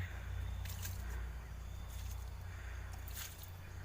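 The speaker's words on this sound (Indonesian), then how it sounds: "sekarang bongol yang sudah terbuka itu kita siram dengan larutan fungisida dan pestisida" Fungicide and pesticide solution is poured onto an opened banana corm in a dug hole, making a steady wet sloshing and splashing over a constant low rumble, with no one talking.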